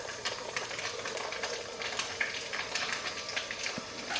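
Onions sautéing in a frying pan for rainbow stir fry noodles give a steady close sizzle, with faint clicks and scrapes scattered through.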